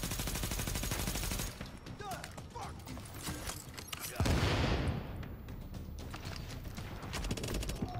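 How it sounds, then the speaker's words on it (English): Gunfire from a Vector submachine gun in the video game Tom Clancy's The Division, sharp shots loud and close among other game effects and a heavy impact burst midway through, with a voice speaking in the background. "The Vector is still the strongest gun that I have, so let's just pop him in the head with the Vector"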